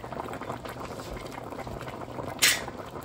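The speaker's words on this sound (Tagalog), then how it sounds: "kumukulo-kulo na" Bubbling mussel dish boiling in a pot, steady and close, with a brief sharp hiss near the end.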